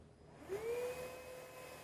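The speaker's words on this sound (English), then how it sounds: "So this is a two-in-one combo type of vacuum cleaner." A wet and dry two-in-one vacuum cleaner starts up at a trade expo consumer goods pavilion, its motor tone rising after half a second and settling into a steady, fairly quiet whine with a faint high hiss.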